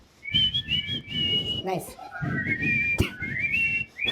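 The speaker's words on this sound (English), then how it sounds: "Never have I lip synced a whistle." A person whistles a tune during a Bollywood quiz game show, a clear melodic whistle in two phrases with a short spoken word in the gap, close and fairly loud.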